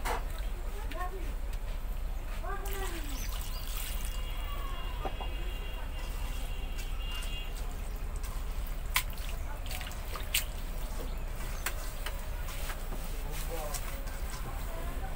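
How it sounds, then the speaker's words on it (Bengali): Water goes into a cooking pot of chopped potatoes, heard as a run of drips and small splashes, with quiet speech in the background. "এখন পরিমাণ মতো পানি দিয়ে দিব"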